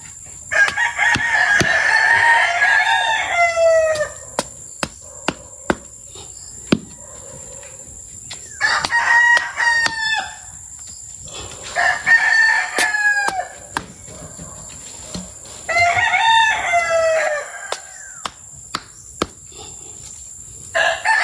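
A rooster crows loudly and close by four times at regular intervals on a rural vegetable farm, with sharp clicks and faint clucking between calls and a steady high background hum.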